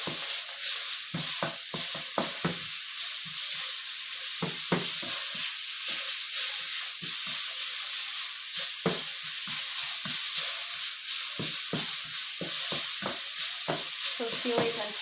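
Meat frying in a very hot pan, a steady bright sizzle running throughout with frequent scraping stir strokes at an irregular rhythm, close and fairly loud, with no talking.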